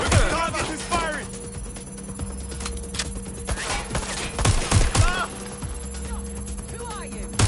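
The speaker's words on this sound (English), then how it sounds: "Target is firing!" Video game combat with bursts of rapid gunfire and scattered shots mixed with chirping effects and a low hum, fairly loud throughout, with voices speaking over the action.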